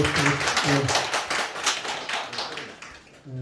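A seated audience at a Buddhist temple meditation lecture claps in a steady, dense round of applause that carries on throughout, with a voice speaking over the clapping near the start and again at the end.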